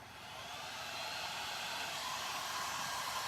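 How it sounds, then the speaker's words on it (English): A quiet heat gun blowing hot air to dry stencil paint, a steady close whooshing rush that holds constant without a break. "I'm going to use my new heat gun. It's really quiet."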